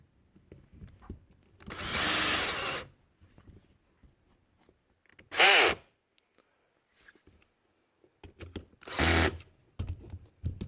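Bolts being tightened on an MBK 51 pocket bike, heard as three separate bursts of rough ratcheting or spinning tool noise, each lasting about a second, close by and loud, with quiet handling clicks between them.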